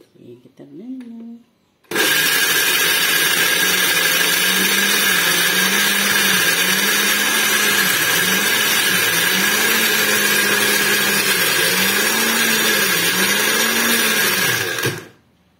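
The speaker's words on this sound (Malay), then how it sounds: "Okay, kita blender." A brief voice, then a blender starts and runs loudly and steadily, its motor pitch wavering as it churns bird's eye chillies, shallots, shrimp paste and a little water into chili paste, before stopping abruptly.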